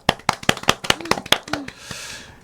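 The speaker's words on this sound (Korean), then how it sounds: "응원의 박수를 보냅니다" Roughly a dozen sharp hand claps from a small group of local news panelists, quick and uneven, ending in a soft scattered patter.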